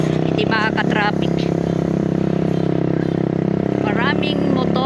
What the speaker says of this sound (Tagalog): Maraming motor.